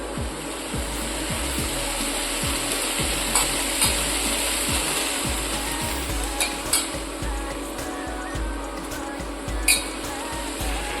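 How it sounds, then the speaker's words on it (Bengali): Cabbage fries in a pan as it begins to release its water, a steady soft sizzle broken by repeated scraping and stirring knocks, close by and with no talking. "বাঁধাকপিটা ভাজতে ভাজতে জল ছাড়তে শুরু করেছে।"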